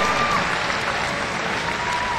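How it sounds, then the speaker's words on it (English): A crowd at a Counter-Strike grand final applauds steadily, dense clapping filling the space without a break, loud and close throughout. "the home country wants to give their team a round of applause"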